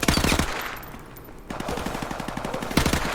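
An automatic weapon fired from the hip in Call of Duty Modern Warfare Remastered lets off rapid, loud bursts of gunfire, breaks off briefly, then resumes with another sustained stream of shots.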